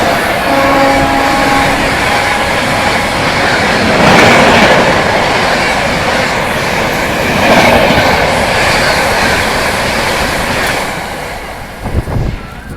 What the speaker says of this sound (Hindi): तो देखते हैं कौन सी ट्रेन आ रही है ओवरटेक करने। कानपुर शताब्दी।